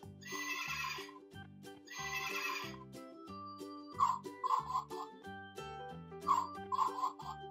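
Electronic toy horse whinnies twice over a looping, tinkly tune, followed by clucking and crowing animal sound effects, all close and bright.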